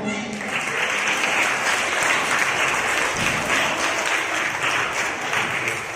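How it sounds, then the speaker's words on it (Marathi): Schoolchildren and guests at a school seminar give loud, sustained applause, a thick steady wall of clapping that lasts the full six seconds, with a faint murmur of voices underneath. "आलेल्या पाहुण्यांसाठी जोरदार टाळ्या वाजवा"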